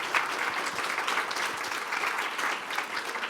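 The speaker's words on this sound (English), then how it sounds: "I want you to give yourself a hearty round of applause because you've been a terrific audience" Audience at a talk on peace on the peninsula breaks into sustained applause, a dense steady patter of many hands clapping throughout, fairly close and even in level.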